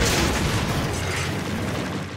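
Flaming ammo fired in the game Monster Hunter 3 Ultimate: a dense, continuous roar of blasts and bursts, loud and sustained throughout with no clear gaps between shots.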